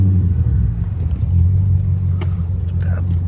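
A 2002 Volkswagen Passat B5.5 with the 4.0-litre W8 engine idles close by, a low steady rumble with a slight uneven pulse, and a voice speaks briefly over it.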